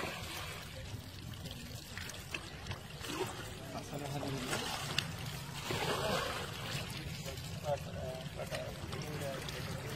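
Water is bailed and poured out of a fishing spot in a beel, a continuous splashing and trickling close by, with people talking over it throughout.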